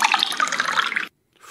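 Running water poured or flowing from a tap, a steady bright splashing rush that stops abruptly, followed by a faint hint of more water.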